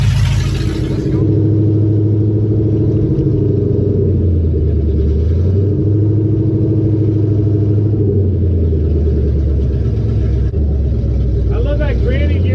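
A 1974 Ford F-250 Custom pickup with a 360 small-block engine drives in the desert, its loud, steady engine rumble rising and falling through gear changes while people talk over it.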